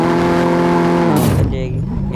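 Honda Civic in Car Parking Multiplayer, engine revving hard while the car is stuck, a loud steady harmonic drone that breaks off into a short squealing burst and rougher rumble.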